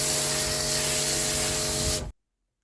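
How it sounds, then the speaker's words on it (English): A snow foam lance sprays the front of a car, a loud, steady pressurized hiss for about two seconds with a constant mechanical hum underneath, then cuts off abruptly into silence. "And I'll spray it onto the front section of the car."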